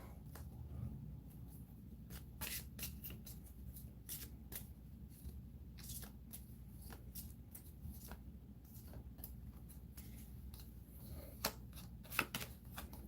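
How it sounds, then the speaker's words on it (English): A deck of spell cards for a Dungeons & Dragons board game is shuffled and dealt, producing quiet, close riffling and flicking of cards in irregular bursts. "Shuffle the spell deck and draw cards until you find 3 of the following."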